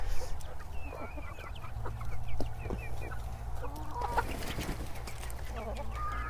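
Chickens cluck and chatter in short bursts over a low steady hum, several birds nearby at moderate volume.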